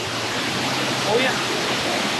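Chinchoti waterfall near Vasai Virar pours in a constant close rushing roar of clean water, steady and even throughout.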